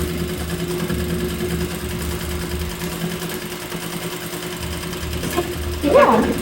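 A sewing machine sews darts on a fitted jumpsuit, humming in a steady, fast mechanical run close by, with a voice speaking briefly near the end.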